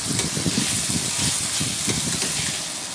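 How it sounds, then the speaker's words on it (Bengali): Dried fish sautéing in a pan with cumin, coriander and garam masala powder gives a steady close sizzle, with rhythmic scraping stirs throughout. "আবারও আমি শুটকির সঙ্গে মশলাটাকে কষিয়ে নেব।"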